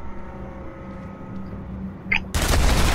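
Gunfire in Batman: Arkham Asylum erupts after a quiet stretch of low game ambience, a sudden loud burst of shots and impacts filling the last stretch of the clip.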